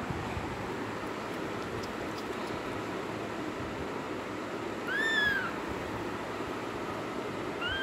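A two-week-old kitten mews while being bottle-fed, a single faint high rising-falling cry standing out briefly over a steady low background hum.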